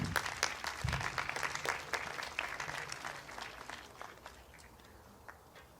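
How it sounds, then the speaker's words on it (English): A concert audience applauds school administrators at a high school band concert, a dense, steady wash of many hands clapping close by that slowly thins toward the end. "So a round of applause for the HHS administration, Jen Wellman"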